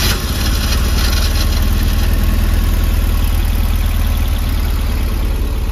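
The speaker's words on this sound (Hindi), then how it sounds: "इंजन नॉइज पहले से तो कम हो गया" A Tata Nano small car engine idles in neutral after starting, a steady close rhythmic chug that runs loud and unbroken with no talk.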